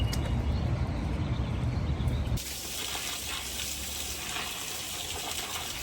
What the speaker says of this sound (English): This is not your typical garden hose.